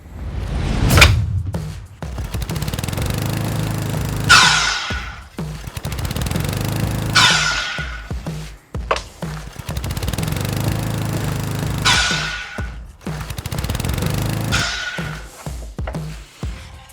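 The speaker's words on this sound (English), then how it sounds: "now that we got our two pieces cut with our 8-degree miters on them at 8 inches" A miter saw cuts 8-degree miters in wood pieces for a woodworking project, with several loud, sustained whining cuts rising and falling in bursts, each separated by brief pauses and thuds, and no talking.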